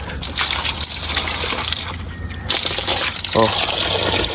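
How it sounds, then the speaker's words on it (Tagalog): Strong spring water gushes out at a fish pond, a loud continuous rushing flow with a brief bubbling gurgle, while someone talks over it. "Yan po kalakas ng tubig na agos niya."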